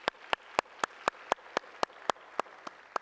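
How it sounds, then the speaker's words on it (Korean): Applause of blessing during a Sunday church service at a Vancouver congregation comes through as crisp, evenly spaced claps at a steady beat, fairly faint and distant with little else around them. "뜨거운 권면의 박수 또 축복의 박수 드리겠습니다."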